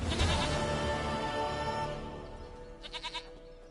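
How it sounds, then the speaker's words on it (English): A goat bleats in The Witcher 3, with a wavering, nasal bleat near the start followed by a quick, trembling run of short pulses toward the end, up close and without talk. "Goat of mine, dearest, sweetest goat."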